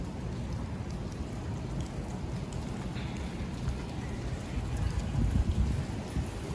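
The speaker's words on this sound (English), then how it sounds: "Such a shame that it's raining today" Steady rain falling in Quebec among old buildings, a soft, even hiss and patter with low rumbling underneath, continuous and fairly faint throughout.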